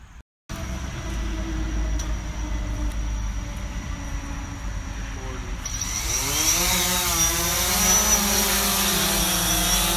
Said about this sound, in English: Had a buddy bring a drone over to get some video of us